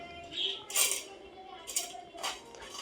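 Metal utensils clink against dishes while vegetable pulao with fenugreek and dill is served and eaten at home, a few bright scrapes and taps spaced across the moment, faint and close, under a woman's soft speech.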